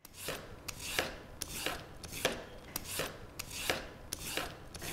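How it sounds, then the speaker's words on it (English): A vegetable peeler shaves a parsnip into thin ribbons, a quiet series of rhythmic scraping strokes about twice a second, close and alone. "make ribbons out of the parsnip just by simply using a vegetable peeler and peeling it into very, very thin strips"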